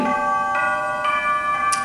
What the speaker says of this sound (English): you've got a person juggling 4 bells, and if you just juggle them in the right way, it actually rings the changes here